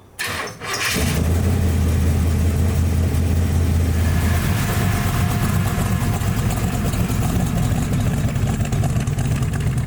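A 1949 Chevy Styleline Deluxe rat rod fires up after a brief crank, then its engine runs loud and close with a steady, deep rumbling idle and rough exhaust throb, no talking.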